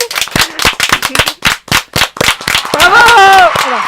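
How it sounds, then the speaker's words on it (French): An audience at a live event claps in quick, uneven bursts that sound close and loud, then the clapping blends into rising crowd voices and cheering near the end. "On peut l'applaudir."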